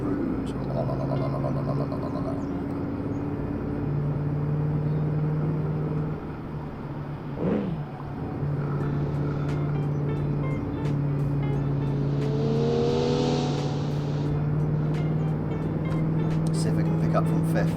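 A 1966 Gasmea car with five gears cruises on a road test in the Automation car game, its engine giving a steady low drone throughout, with someone talking over it.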